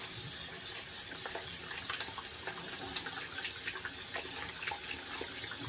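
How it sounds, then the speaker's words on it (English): Water poured into a bowl while a shaving brush is spun and rinsed of soap, a steady close splashing and trickling wash with small sloshing bursts throughout. "I pour the water into this bowl when I'm spinning it to get the soap out of there"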